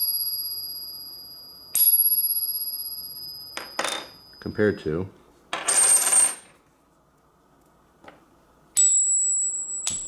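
Fake silver coins struck against each other give bright clinks and short ringing tones, several separate strikes spread across the stretch. A voice speaks briefly between them.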